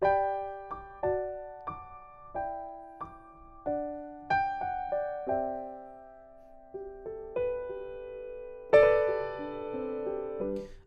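Solo piano plays a gentle intro to a song, chords struck one at a time and left to ring and decay, fairly soft and unhurried.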